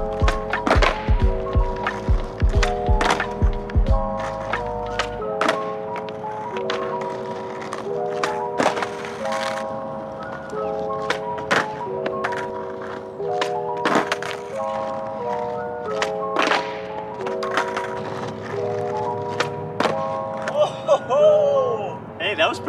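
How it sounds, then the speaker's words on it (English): A skateboard hits the ground again and again as fakie big flips are tried, with sharp clacks and thuds at uneven intervals over steady tonal background music, close by. "All right, I just landed my first fakie big flip."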